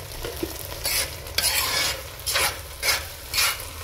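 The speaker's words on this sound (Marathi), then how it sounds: "या तुपामध्ये मी ना हा तांदूळ आहे ना फ्राय करून घेते छान" Rice frying in ghee in a pan for Kashmiri pulao, with a steady close sizzle and repeated scraping stirs that swell and fade every second or so, no voices.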